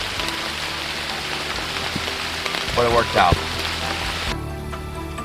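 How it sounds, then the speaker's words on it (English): Steady heavy rain hisses across the whole clip, a dense wash of drops on surfaces, with someone speaking briefly partway through. "Pouring rain,"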